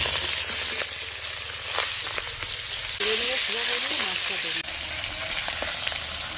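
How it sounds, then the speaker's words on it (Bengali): Tangra fish frying in hot oil for a spicy curry, a steady broadband sizzle with occasional pops and spatters, running loud and continuous throughout without talk. "মাছগুলো একের সঙ্গেই ভেজে নেব।"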